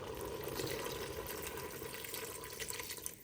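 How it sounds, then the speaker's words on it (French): Water, about 350 ml, poured steadily over a lamb neck marinade for a raisin and onion dish, a continuous close splashing flow with no speech. "Et je vais y ajouter l'équivalent de 350 ml d'eau."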